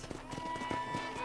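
Horse hooves clip-clop in a quick galloping rhythm in the video game Red Dead Redemption, moderately close, over a steady background of game ambience.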